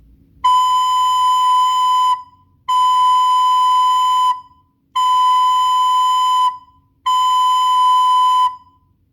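Four long, steady notes of B played on a recorder, evenly spaced with short gaps, clear and close with no voices.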